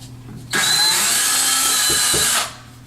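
A power drill bores into a bathroom wall to reach a stud while a vanity is installed, a loud steady whine for about two seconds that starts and stops abruptly.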